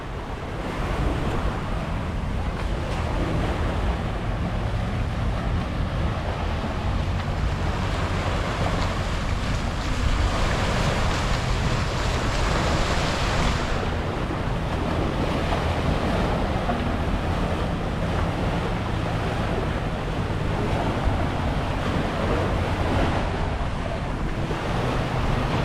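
Ocean waves wash steadily along a beach at Labuan Bajo, a continuous broad surf roar with wind buffeting the microphone, heard alone without talk for the whole stretch.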